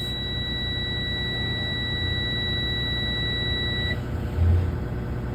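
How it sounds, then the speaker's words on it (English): A truck's low air pressure alarm buzzes as a steady high electronic tone over a rumbling idling engine, then cuts off partway through as the air tanks rebuild, leaving the engine running alone. "The buzzing is your low pressure alarm because the tanks are rebuilding."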